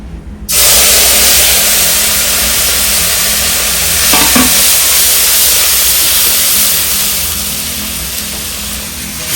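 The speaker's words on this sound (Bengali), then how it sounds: "আমি এখন মশলা দিয়ে কষাবো" Loud, continuous sizzling and hissing of fried fish cooking with spices in hot oil, starting abruptly and holding steady with a brief stir partway through.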